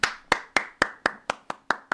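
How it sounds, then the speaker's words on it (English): A man claps his own hands nine times in an even, close, crisp rhythm, each clap sharp and isolated against near silence. "Had to give a clap for myself."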